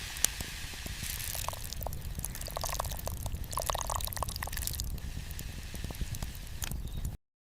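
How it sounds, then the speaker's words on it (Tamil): Rice tipped into a pot of boiling water for a village-style wedding sambar gives a soft steady hiss and patter of grains and liquid, with scattered drips and small splashes throughout before it cuts off. "ஒலை கொதிச்ச உடனே அரிசியை போடுற அந்த சத்தம் இருக்கே"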